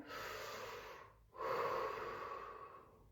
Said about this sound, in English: let's breathe together. Breathe in.